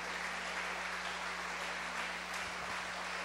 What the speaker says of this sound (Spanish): Un fuerte aplauso para ellos también.